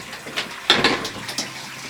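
Water runs through a white hose into a big blue tank aboard a self-sustaining ocean boat, a soft splashing trickle with a louder gush partway through, close by and with no talking.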